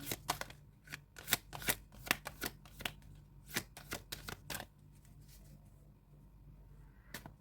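Tarot cards shuffled for a pick-a-card reading, a close run of crisp riffling snaps and flicks in quick bursts that thin out, with one last flick after a pause.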